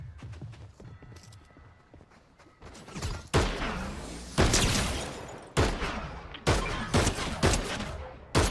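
Gunfire in an online shooter video game: repeated loud bursts of automatic shots that rise in intensity, separated by brief pauses, with faint talk early on.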